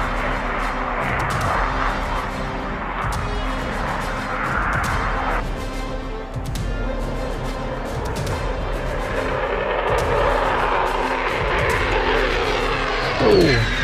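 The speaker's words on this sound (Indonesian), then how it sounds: "Jet." Jet fighter aircraft roaring past over Natuna, a dense, sustained engine rumble and rush that stays loud throughout and swells slightly toward the end.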